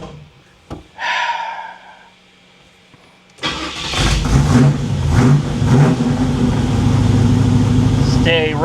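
A Monte Carlo SS engine sputters briefly, then catches and roars steadily, running loud and close with rough revving; a faint voice is heard before it starts.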